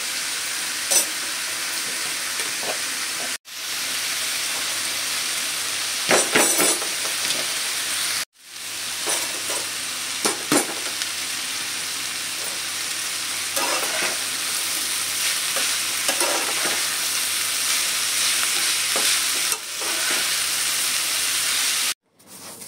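Ginger and garlic fry in a pan with a loud, continuous close-up sizzle, broken by scraping stirs and a few brief pauses.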